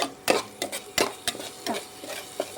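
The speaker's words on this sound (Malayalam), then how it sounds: "ഇഞ്ചിയും വെളുത്തുള്ളിയും ചതയ്ക്കുന്ന കാണിച്ചു തരാവേ" Ginger and garlic crushed by hand, a run of sharp irregular knocks and scraping thuds, close and fairly loud, about a dozen hits with short pauses between them.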